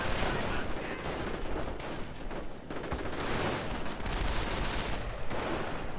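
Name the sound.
MG42 machine gun fire in a video game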